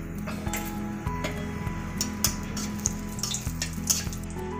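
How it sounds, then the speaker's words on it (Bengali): Bay leaf, dried chilli and whole garam masala crackle in hot oil, a steady sizzle broken by sharp pops and small clinks, close and without talk. "ফোড়নে তেজপাতা, শুকনো লঙ্কা একটু ফাটিয়ে দিলাম"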